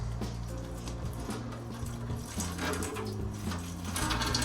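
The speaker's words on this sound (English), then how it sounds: "It's low-key splashing everywhere." Water splashing and running steadily around a submerged PC, a continuous close, moderately loud watery wash over a low humming drone with no pauses.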